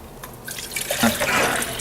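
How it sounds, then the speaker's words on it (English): Water is poured into a Stanley camp cook pot, a close, steady splashing that starts softly and swells into a full, continuous gush without any talking. "I can sit here and pour"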